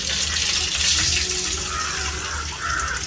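Salted water with a little turmeric being poured into a cooking pot in a home kitchen, a steady close pouring and splashing that runs the whole time with no talk.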